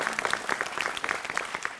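A studio audience at a Malayalam TV comedy show applauds after a comedy skit with a dense, steady, fairly close patter of many hands clapping.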